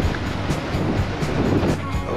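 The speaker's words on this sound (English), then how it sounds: "Be glad to get out of this wind." Wind roars steadily across the microphone while riding a motorcycle on Route 66 near Petrified Forest, a loud, continuous rushing buffet with no pauses.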